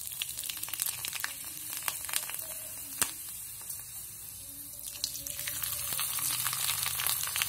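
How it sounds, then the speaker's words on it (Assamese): Jeng pitha, an Assamese sun-dried rice snack, fries in hot oil with a soft, crackling sizzle and scattered sharp pops, fairly quiet and close, with no voices. "এতিয়া মই গৰম তেলত ভাজি দেখুৱাম"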